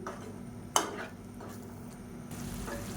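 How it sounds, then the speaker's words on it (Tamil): Gravy simmering in a pan with a steady soft bubbling sizzle, broken once by a brief clink near the start. "இப்போ நல்லா கொதிக்க ஆரம்பிக்கட்டும்."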